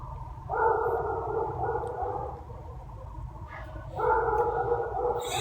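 A large dog kept at a house gate barks in two drawn-out bouts, a sustained call at the start and another near the end, moderately close over low background rumble, with no talk.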